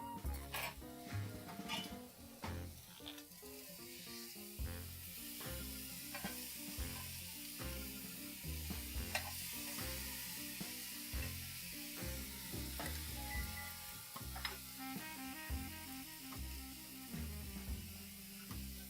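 Broccoli sizzles steadily in a frying pan, a continuous loud crackle with occasional clinks and scrapes of a utensil stirring against the pan.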